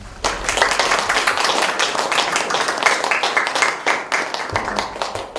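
An audience gives loud, dense applause for lecturer Son Myeong-hun at a public relations talk, a steady wash of many hands clapping for about five seconds without pause.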